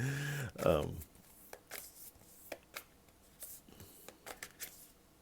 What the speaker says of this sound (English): We shuffle until one pops out or stands out in some way, or refuses to shuffle back in.